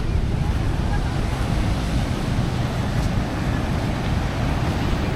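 Waves washing against a breakwater at Glagah beach, a steady broadband rush of surf mixed with wind buffeting the microphone, constant and fairly loud throughout with no clear individual breakers.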